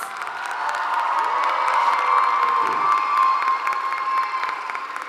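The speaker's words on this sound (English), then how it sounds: "Give our graduates a great hand of applause." Crowd at a spring nurse pinning ceremony at a community college applauding and cheering for graduates, a sustained roar of clapping with high whoops and shouts rising over it.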